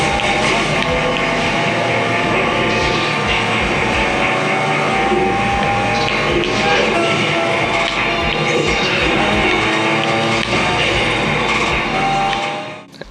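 A car smashing through scenery in a racing video game, heard as a loud, continuous roar of engine and crashing debris through TV speakers, dense and unbroken for several seconds before cutting off abruptly.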